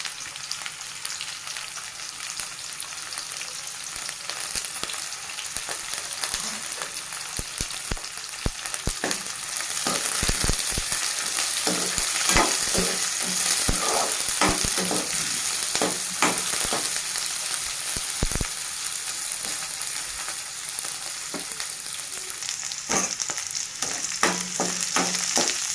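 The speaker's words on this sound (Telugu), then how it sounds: "కొంచెం ఆనియన్స్ వేగనివ్వండి" Onions with dried red and green chillies fry in a pan, giving a continuous loud sizzle broken by scraping stirring clicks, close up, without talk.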